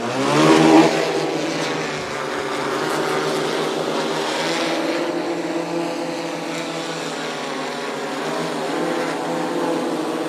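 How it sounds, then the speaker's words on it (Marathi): An agricultural spraying drone flies over a sugarcane field, spraying a multi-micronutrient feed. Its motors give a loud, steady, droning whine close by that holds throughout with slight pitch shifts. "हा ड्रोन आपला चालू झालेला आहे आता."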